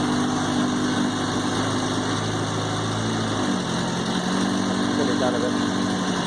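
A 2001 Suzuki Katana 600cc oil-cooled motorcycle engine idles steadily at about 1000 RPM with the choke on, loud and close throughout, its tone dipping slightly partway through while someone speaks briefly over it.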